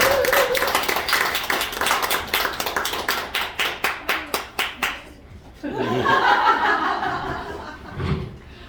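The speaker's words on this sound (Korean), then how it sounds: "큰 박수로 맞아주세요" An audience claps to welcome a speaker at a company presentation in a Daegu venue. Crisp, rhythmic clapping runs for about five seconds and then stops, followed by chuckling, laughter and voices.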